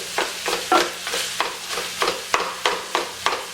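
Sausage browning in a pan, with a steady sizzle and regular scraping stirs about twice a second, close and clear with no voices.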